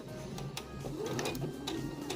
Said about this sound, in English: With a normal straight stitch, not a basting stitch, go ahead and do a backward stitch